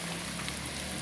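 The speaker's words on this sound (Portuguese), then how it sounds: "E chuva aqui, ó, bueiro estourando, não dá vazão, né?" Heavy rain pouring onto a flooded street in the Castelo Branco neighbourhood of Juazeiro during a storm, a dense, steady hiss of falling water with no break and no talk.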